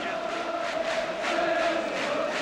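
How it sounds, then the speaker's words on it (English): Steady crowd murmur at Leyton Orient's ground on a sunny opening day of the 1974/75 Second Division season, a dense, even wash of many distant voices waiting for kick-off, with no single speaker standing out. "now the crowd waits in the sunshine for a start to the new season"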